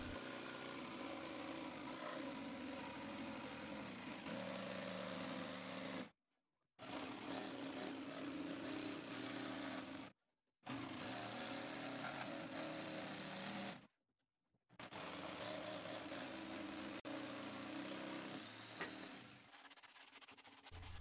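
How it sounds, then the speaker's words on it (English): A buzzing, rattling jigsaw cuts a circle in plywood in long bursts with short silent pauses between, its motor hum steady and close throughout. "used my jigsaw to cut the circle out."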